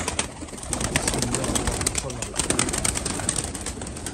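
Iraqi pigeons coo in a loft, soft repeated calls mixed with wing flutters and light scratching, while someone talks over them throughout.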